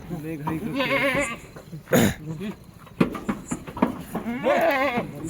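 Goats at a livestock sale bleat in several wavering calls, near and fairly loud, mixed with people talking over them.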